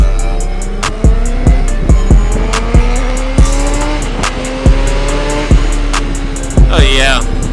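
A Honda 600RR-type sport motorcycle ridden on Pittsburgh roads in January, its engine revving in rising pitch sweeps with repeated gear shifts, loud and close from an onboard perspective amid wind rush.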